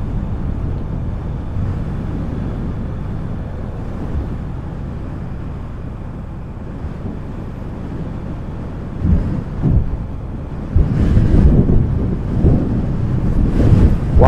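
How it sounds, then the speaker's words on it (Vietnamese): Strong coastal wind on a seaside mountain pass road near Mũi Dinh, Ninh Thuận, roars steadily into the microphone, rising into heavier buffeting gusts toward the end, with no talk. "Quá trời gió luôn, gió thổi mà xe mình muốn bạc chạy không được."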